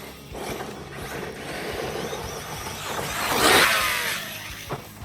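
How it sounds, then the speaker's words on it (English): An Arrma Talion 6s RC car runs with a motor that may be failing, giving a steady mechanical whir with ratcheting, gear-like rattles and a louder squealing surge near the middle, then a short sharp knock. "I feel like that motor's going out."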